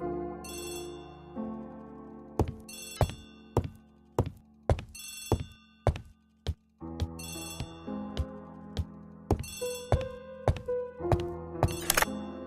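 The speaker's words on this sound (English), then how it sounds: "Poirot, the telephone." An old-fashioned telephone bell rings in a radio drama adaptation of Agatha Christie's The ABC Murders, sounding in repeated bright bursts over about twelve seconds, broken by sharp thunks and clicks, close and clear with no talking over it.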